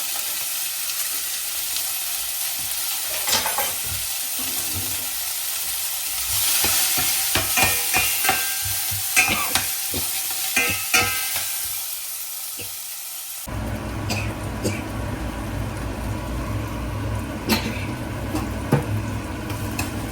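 Sliced green chilies and onions hit hot olive oil in a pan for a paneer curry, giving a steady sizzling hiss with scraping stirs and occasional clinks of the spoon against the pan, close and loud, with no voices.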